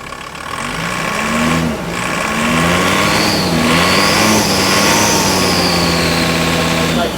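A car engine runs just after a snapped cambelt was repaired, holding a steady close drone with a rising and falling rev and a whining tone, continuous and loud throughout.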